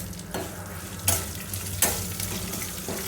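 White sesame seeds, dried chilies and curry leaves fry in a pan with a steady sizzle, broken by a few sharp stirring scrapes, close up and with no talking.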